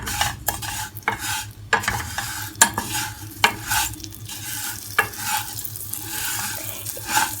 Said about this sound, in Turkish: Şimdi şehriyemi ocağa aldım arkadaşlar. Rengi dönesiye kadar kavuracağım.